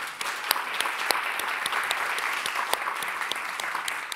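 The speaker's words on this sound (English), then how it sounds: "I think we should all give them a big round of applause for bringing us all here together." An audience at a design symposium gives a hearty round of applause, dense and sustained, with crisp individual claps standing out close by over the steady crowd clatter.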